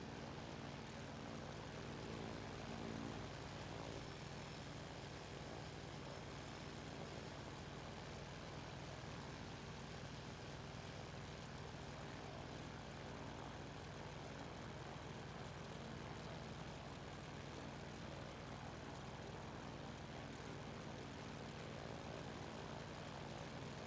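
Kittyhawk propeller plane in Microsoft Flight Simulator 2020 drones steadily throughout, a constant broadband engine and propeller roar at even volume with no breaks, flying through a Scotland valley.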